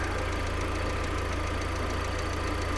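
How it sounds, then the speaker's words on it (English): A small 5-valve four-cylinder car engine idles steadily at a salvage auction yard, a constant low rumble with a faint regular ticking, close by and with no talk over it. "The engine sounds really good though."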